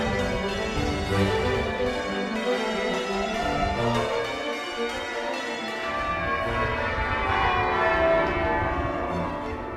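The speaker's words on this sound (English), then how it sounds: "We've all heard bells ringing from church tops and cathedrals" Many cathedral bell tower bells in Washington peal together in a dense, continuous ringing wash, steady and resonant throughout with no voices.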